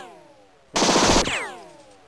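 A single loud burst of machine-gun fire, about half a second long, in the video game Mount & Blade: Warband during a Festung Breslau multiplayer event. It cuts in sharply over a soft tonal background and then stops.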